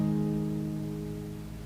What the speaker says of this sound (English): We'll be playing a D